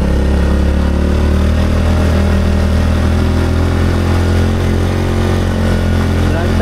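A motorcycle engine works hard on a steep uphill climb in the Tacadang Crying Mountains, a loud, steady, close drone that runs unbroken through the whole stretch with no talking.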